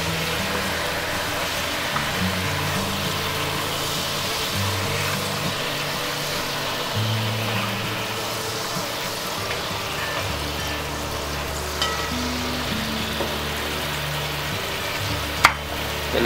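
A braising pan being deglazed with white wine, bubbling and sizzling steadily as a utensil scrapes the browned bits from its bottom, with low scraping strokes and a sharp clink near the end.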